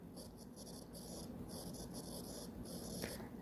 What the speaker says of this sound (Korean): 여기에 써볼게요.